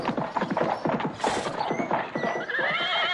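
An audiobook sound effect of a horse gives a loud whinny over steady clip-clopping hooves and a rattling cart, continuing at close range for several seconds.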